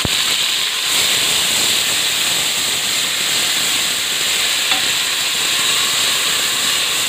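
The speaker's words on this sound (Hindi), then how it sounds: "ये प्याज हमारी ब्राउन हो गई है। अब जा रहा है इसमें अदरक लहसुन," Ginger and garlic dropped into a pan of browned onions for moong masoor dal, a steady loud sizzle and hiss of frying that runs unbroken throughout.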